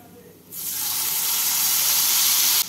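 Spice paste hits hot oil with cinnamon and cloves being tempered for a Bengali chal potol dish, bursting into a loud, steady sizzle that holds close and continuous, then cuts off abruptly near the end.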